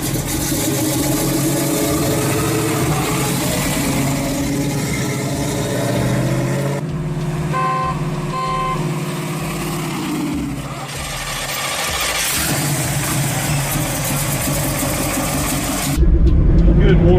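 A 1969 Dodge Dart muscle car's V8 engine idles while warming up, a steady, dense rumble lasting throughout, with the level jumping abruptly near the end.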